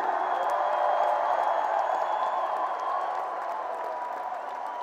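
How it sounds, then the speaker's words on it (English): A large arena crowd at a rock concert cheers, whoops and claps for the opening bands, a broad, distant roar that holds steady then eases slightly toward the end. "I want you guys to fucking cheer for them right now"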